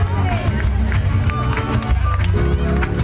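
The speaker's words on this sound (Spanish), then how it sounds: "ese fuerte aplauso para ese jinete maravilloso" Dense crowd applause for an award-winning adult horse rider at the Romería de las Lagunas 2022 gathering, a steady, loud roar of clapping and cheering with voices and tonal sounds mixed throughout.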